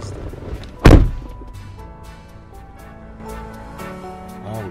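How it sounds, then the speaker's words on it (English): A single heavy thump of a fist or body striking a door, loud and close near the start, followed by quieter room tone with faint low rumble. "How would this guy hit my door like this?"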